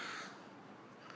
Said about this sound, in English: the crow makes noises